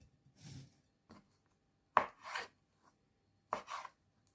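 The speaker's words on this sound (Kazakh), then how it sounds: "Мен осылай 4-5 топ турап алам." A knife slices a banana into four or five pieces for a fruit salad, giving a handful of soft, separate chopping taps on a board with quiet pauses between them, close and clear with no talk.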